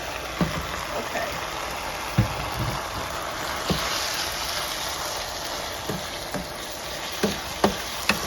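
Meat and beans frying in a pan for tacos, a steady broadband sizzle with scattered sharp clicks and scrapes of stirring, close and moderately loud with no talking.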